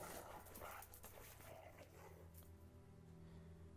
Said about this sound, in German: Igor hat Angst vor dem Hund